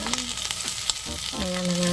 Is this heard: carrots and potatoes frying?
yes